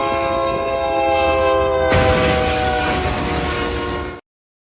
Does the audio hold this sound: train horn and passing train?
yes